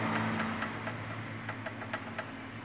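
Quiet idling car engine with a cold-start fault in the fourth cylinder, suspected piston slap, giving a steady low hum with a faint, regular ticking knock.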